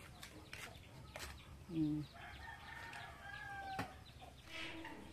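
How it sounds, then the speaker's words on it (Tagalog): Chickens cluck and a rooster crows in the background, with a few sharp knocks and some faint voices mixed in. "2 manok yan, guys"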